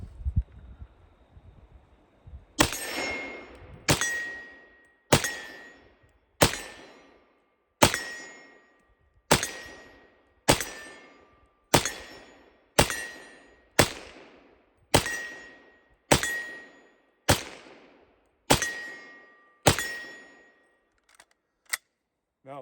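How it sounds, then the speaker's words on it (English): Fifteen evenly spaced gunshots from an M1 Carbine chambered in .30 Carbine, each a sharp loud crack with a ringing decaying tail, fired at a steady semi-automatic pace with no talking. "Now let's go ahead and fire off 15 shots here."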